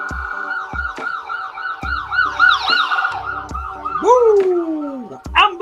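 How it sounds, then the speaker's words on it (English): An ambulance siren wails outside in a repeating rising-and-falling pattern, with a louder swooping tone near the end as it passes, plus sharp thumps and a dog barking now and then. "Ambulance!"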